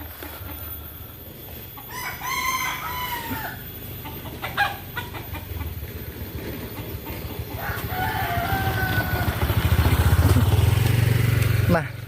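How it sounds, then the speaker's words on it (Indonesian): Javanese chickens in a forest village, roosters crowing several times in long rising calls at mid distance, with clucking and a steady low rumble like a passing motorbike building toward the end. "Tidak ada suara berisik apapun kecuali ayam berkokok,"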